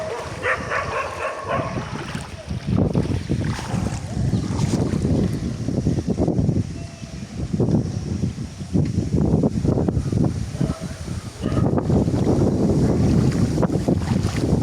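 Strong wind buffets the microphone in loud continuous gusts, with rushing water or surf underneath.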